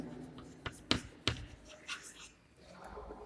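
Pen or chalk writing by hand during a math lesson on linear equations, with several sharp tapping strokes and soft scratching, close up, under a faint voice.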